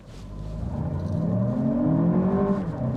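A Lexus RX 500h F-Sport hybrid SUV in sport mode accelerating at full throttle from a standstill, engine note swelling and climbing in pitch over a few seconds, loud and close.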